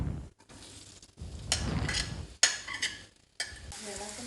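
Banana, cashews and dry fruits frying in ghee in a pan, with bursts of stirring scrapes and clatter over a soft sizzle, separated by brief quiet gaps.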